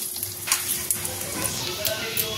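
Whole garam masala hits hot oil in a kadai, giving a close, steady sizzle with small crackling pops, and a voice can be heard faintly beneath it.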